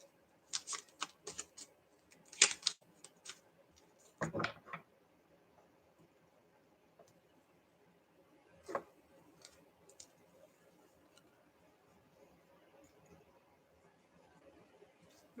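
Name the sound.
shuffling long tarot reading cards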